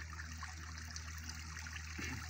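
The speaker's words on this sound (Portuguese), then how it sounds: "Vai subir, descer pela cascata." Water runs down a garden pond cascade in a soft, continuous trickle, faint and steady with no voices.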